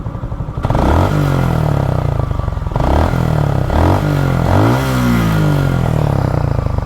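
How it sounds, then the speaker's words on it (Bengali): A Suzuki Gixxer motorcycle engine idles and revs after a long ride, several sharp throttle blips rising and falling over a loud, close, steady running note with no talking. "স্টার্ট দেওয়ার পর ইঞ্জিনের সাউন্ডটা একটু শোনাই যে কেমন আছে"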